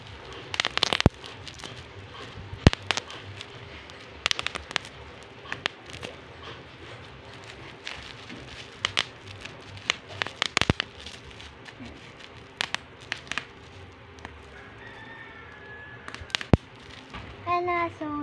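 Someone pops bubble wrap by hand from a package opened indoors, sharp irregular pops and crackles scattered over many seconds, some close and loud, with a voice audible at times.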